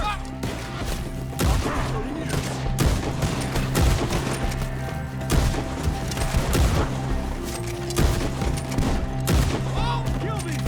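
Gunfire rattles through a shootout in Red Dead Redemption 2, with repeated loud shots and volleys coming in irregular bursts, while voices shout over the fighting.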